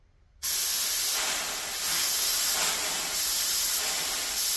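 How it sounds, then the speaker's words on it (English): Compressed air hisses steadily into a snowblower carburetor at the fuel inlet while the float is worked up and down, a loud, close, continuous spray that starts abruptly after a brief silence and wavers slightly in strength. "if you have compressed air, I'm spraying this into where the fuel goes"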